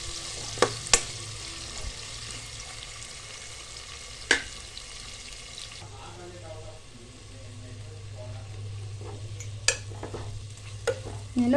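Sliced large onion fries in a pan for egg biryani, with a steady sizzle and occasional scrapes and clinks of a spoon as it is stirred, close and moderately loud.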